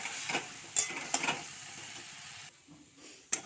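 Taro leaves sizzle and crackle in a pan with a few sharp utensil clinks, then the frying noise suddenly drops away.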